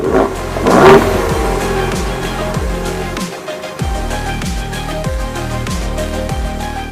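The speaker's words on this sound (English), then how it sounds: "Baja mode lets the twin chrome exhaust pipes at the rear really rip." A Ford Ranger Raptor pickup's twin exhaust revs hard in Baja mode, climbing repeatedly in pitch with a brief drop in between, close and aggressive.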